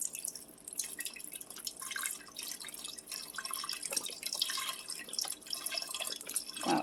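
Chicken broth from a carton pours and splashes into a pot, an uneven gurgling trickle with drips, close by and moderately quiet, no talking.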